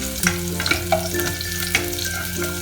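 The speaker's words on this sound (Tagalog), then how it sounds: "Isunod ang bawang." Garlic fries in a pan for oatmeal congee, a loud, close, continuous sizzle with a few stirring scrapes and clicks on top, and no one speaking.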